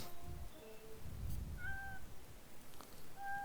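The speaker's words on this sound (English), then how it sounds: "Cat chases the bird away." A cat meows in the point-and-click adventure game The Little Acre, with a few short tonal calls rising over a steady low background rumble and no talking.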